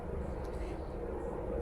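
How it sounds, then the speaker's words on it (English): A helicopter passes outdoors, its low, steady rotor and engine drone filling the short stretch at even loudness with no clear approach or fade. "That's a helicopter going by."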